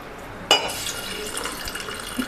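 Water pours from a glass into a small pressure cooker holding half a bowl of toor dal, starting with a sudden splash and settling into a steady, close, bright trickle.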